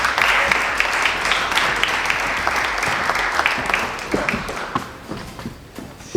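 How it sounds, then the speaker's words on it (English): An audience at an executive insurtech event applauds as a panel comes up to the stage, steady dense clapping that fills the room and tapers slightly toward the end, with faint footsteps. "Come up here and give them a hand of applause,"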